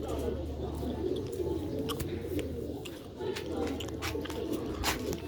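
A pair of Sialkoti pigeons cooing close by in soft, repeated low coos, with a few sharp clicks and rustles over a steady hum.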